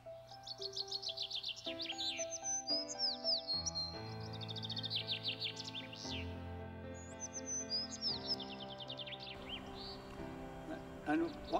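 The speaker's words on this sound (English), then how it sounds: "That's a sparrow." A sparrow chirps in a rapid run of short, high tweets, repeated in bursts over soft tonal background sound, fairly faint but distinct throughout.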